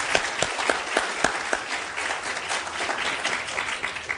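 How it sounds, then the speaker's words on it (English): Audience applause honouring a World Press Photo of the Year winner at a photography event: steady, dense clapping from a crowd with a few sharper individual claps near the start. "so a big round of applause to him."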